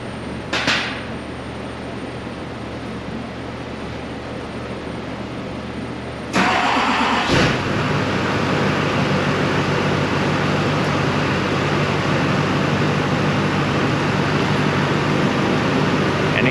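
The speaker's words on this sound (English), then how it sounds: "So I'm gonna go ahead and start the vehicle." A car is started for compression and fuel rail pressure testing: a brief starter crank cuts in sharply, then the engine settles into a steady, loud idle that runs on alone without talk.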